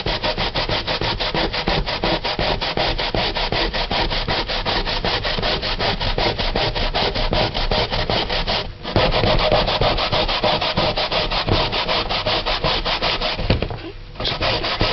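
Sweet potato scraped steadily across the fine side of a square box grater, a fast even rasping stroke repeated without pause, loud and close, with two brief breaks.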